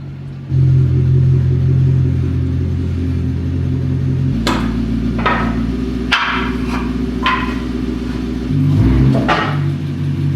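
A car is driven into a repair shop for an ABS delete, its engine rumbling low and steady, with a few sharp metallic knocks and clanks ringing out over the drone near the end.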